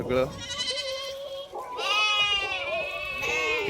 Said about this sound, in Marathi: तिथं अजून बकरी आहे